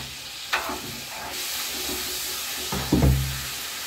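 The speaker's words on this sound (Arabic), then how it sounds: "شوف داكشي كيتختخ كيتختخ صافي، اللحم كيتختخ" Meat sizzling in a pan while cooking a pepper tagine, a steady close frying hiss with a few louder bursts of crackle and stirring.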